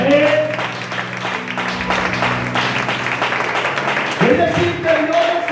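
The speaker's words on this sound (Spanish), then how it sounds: "Alguien lo puede aplaudir más fuerte a Él." A church congregation applauding during an evening sermon, a sustained wash of clapping from a crowd under a sung or held musical tone, fading slightly and then swelling again.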